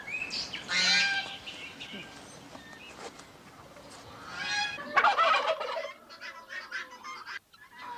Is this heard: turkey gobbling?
yes